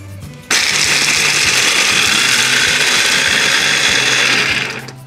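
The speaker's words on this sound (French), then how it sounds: "Et donc, on mixe le tout." A blender whirs loud and steady for about four and a half seconds, mixing crumble ingredients with a knob of butter, starting abruptly and winding down at the end; no talking.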